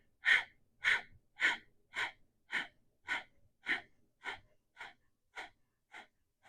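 Breath of fire yoga breathing, a steady series of about twelve forceful, rhythmic nasal exhalations spaced roughly half a second apart, close and clear, gradually softening toward the end with silence between puffs.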